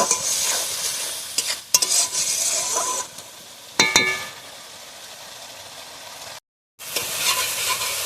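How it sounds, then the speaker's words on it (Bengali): Spice masala of turmeric powder, chilli powder and salt with a little water, stirred and fried in a pan for chicken wing kosha, with scraping spoon strokes over steady sizzling and a brief silent gap near the end. "এইভাবে মশলাটাকে আমি ভালোভাবে কষিয়ে নিচ্ছি"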